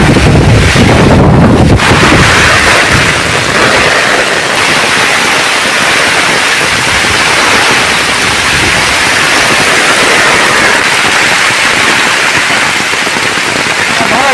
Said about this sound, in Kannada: ಗಾಳಿ ಜೋರು ಬರೋದು.